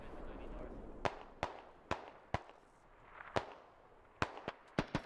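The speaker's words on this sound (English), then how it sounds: "Nades everywhere." A series of sharp grenade explosions in SquadOps, about ten separate cracking bursts at irregular intervals, some clustered close together, over a low background rumble.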